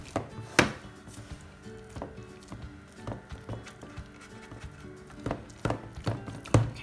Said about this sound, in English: now you're gonna just spread that amazing dough evenly